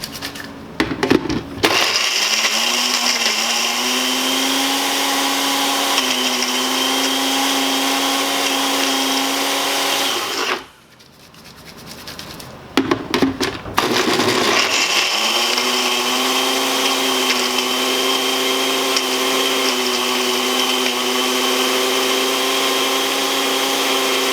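A blender grinds ayahuasca plant material into a fine powder, a loud steady whine that stops briefly near the middle, restarts with short bursts, then runs continuously again.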